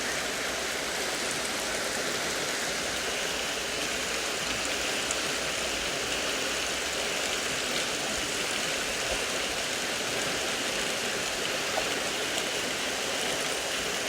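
A stream flows steadily in an outdoor setting away from city life, a continuous even rush of water with no breaks and no voices.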